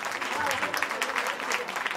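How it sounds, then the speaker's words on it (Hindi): A crowd at an award ceremony during the Gangasagar Mela in Kolkata gives lively, busy applause that stays moderately loud throughout, with faint voices mixed in. "एक जोरदार ताली होनी चाहिए गुड्डू महाराज के लिए"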